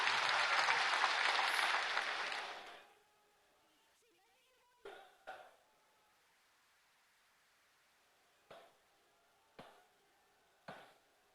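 Crowd applause rings out for Prime Minister Narendra Modi at a land allotment certificate distribution ceremony in Sivasagar, Assam. It is loud and sustained for about three seconds, then fades, leaving a few scattered isolated claps and knocks.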